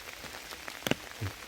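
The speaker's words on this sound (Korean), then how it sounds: "올라오니까 비가 오네요." Rain falls outdoors on a spring hillside in northern Gyeonggi Province, a soft steady patter with a pair of sharper drop taps near the middle and no voices.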